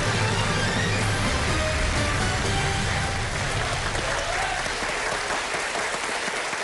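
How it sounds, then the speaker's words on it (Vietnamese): Students from Cau Giay High School in Hanoi cheer and applaud at a televised Vietnamese quiz show, a steady, dense wall of clapping and shouting that fills the whole stretch without pause. "Những tiếng hò reo cổ vũ của các bạn đến từ trường Trung học Phổ thông Cầu Giấy Hà Nội"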